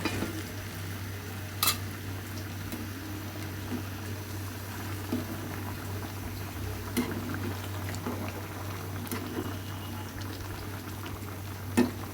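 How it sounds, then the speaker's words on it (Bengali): A pot bubbles at a steady low boil, faint and continuous, with a few soft clicks. "গরম পানি দেওয়ার পরে আবারও সুন্দর করে ফুটিয়ে রান্না করে নিব।"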